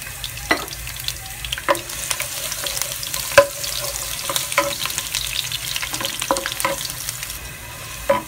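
Garlic hits hot cooking oil in a wok over high heat for char kway teow, a dense close sizzle punctuated by repeated sharp scrapes and knocks of stirring, with no speech.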